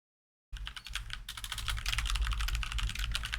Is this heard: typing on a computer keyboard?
yes